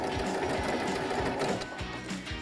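A Baby Lock Brilliant sewing machine stitches a shell tucked edge on fabric, its needle swinging just off the edge; a fast, close, steady mechanical whirring with rhythmic thumps runs the whole time.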